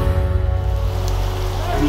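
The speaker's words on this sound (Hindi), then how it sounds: "बहुत तेज बारिश आई है और हम भीग चुके हैं" Steady heavy rain in Saskhet, Almora, Uttarakhand, hissing and pattering nearby, with a constant low rumble underneath; no clear talk.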